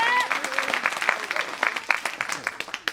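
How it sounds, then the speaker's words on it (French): Audience applause for a boy named Nathan at a 2022 stage show, clearly audible clapping that thins into separate, distinct claps as it fades, with a trace of voice at the start. "On peut l'applaudir encore très fort."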